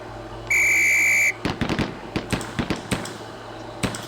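A single shrill whistle blast sounds in the Police Quest SWAT video game, held for nearly a second, then a rapid string of sharp gunshots follows in irregular bursts.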